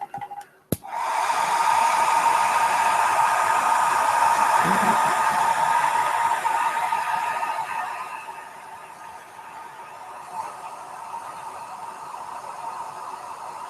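A hair dryer blows steadily on a watercolor still-life painting, a loud close whir with a tonal hum that runs about seven seconds, then drops to a softer, more distant blowing for the rest.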